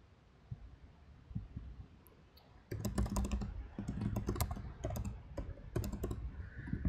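Computer keyboard typing while login details are entered, starting with a few faint taps and then a dense run of close, rapid key clicks over quiet room hum.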